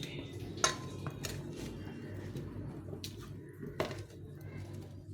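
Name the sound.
mixing hot taro with a spoon in a dish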